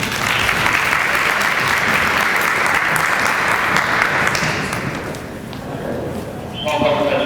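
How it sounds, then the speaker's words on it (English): A crowd applauds to welcome a speaker at a State of the City address in Mount Clemens, a loud, dense wash of clapping that holds steady for about five seconds and then thins, with a voice starting at the end. "Please give Dana a hand of applause."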